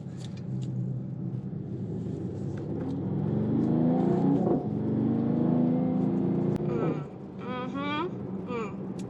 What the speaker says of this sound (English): I love Mercedes-Benz GT. I just love how it sounds.